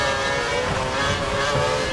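A Formula 1 race car engine in the F1 2012 video game at the Japan round holds a loud, steady high-pitched whine with buzzing harmonics throughout, close and continuous with no talk.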